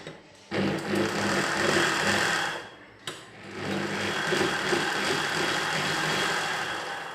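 Close, loud whirring of a sewing machine running fast as it stitches a blouse neck. It stops briefly near the start, runs in a steady burst, cuts out for a moment, then continues unbroken to the end.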